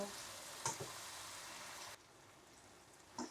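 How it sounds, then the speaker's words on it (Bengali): Vegetables for a Chinese-style chicken curry fry over high heat with a low crackling sizzle and a couple of light scraping stirs; the sizzle drops noticeably quieter partway through. "এখন আমি হাই হিটে চুলাটা রেখে একটু সবজিগুলো নেড়ে চেড়ে মিশিয়ে নিব"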